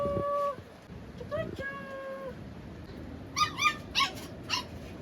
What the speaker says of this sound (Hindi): हमें एक्चुअली कुत्तों की भौंकने की आवाज ने इस तरफ आकर्षण किया